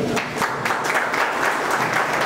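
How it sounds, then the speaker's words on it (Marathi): An audience claps loudly for local journalists at a gathering, in a brief burst of continuous, dense applause from a close crowd. "त्याच्यावर त्याचा टाळ्या झाल्या पाहिजे"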